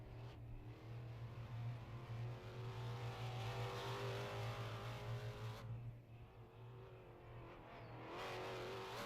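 Stock cars in the 2025 Mt Lawn All American Stockcar Championship feature roar around a track, a sustained loud engine drone from the pack that drops briefly as cars pass, then swells again.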